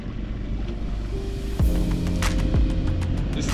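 A 4 HP outboard motor pushing a square stern canoe at half throttle, giving a steady droning engine hum with a slight shift in pitch partway through and water and wind noise beneath.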